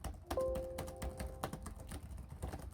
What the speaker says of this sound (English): I personally think it has a great typing experience, has a great keyboard.